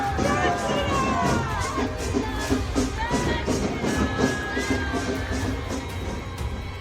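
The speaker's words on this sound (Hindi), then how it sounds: "हाथ में भगवा झंडा लेकर भीड़ सड़क पर जय जय श्री राम वाले नारे लगा रही है।" A large street crowd waving saffron flags in Hooghly chants Jai Shri Ram slogans during a religious procession, a dense, continuous roar of many voices with rhythmic shouting and cheering throughout.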